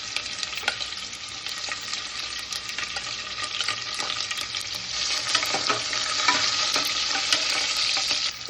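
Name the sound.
curry leaves and sliced onion sautéing in oil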